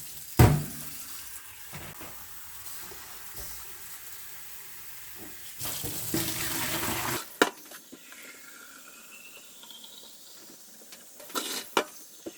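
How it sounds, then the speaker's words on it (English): A tap runs into a bucket as water is measured for a pickling-lime solution, with a quiet trickle that swells into two louder rushing bursts, then drips and sporadic clunks. "measure out the amount of water that we need"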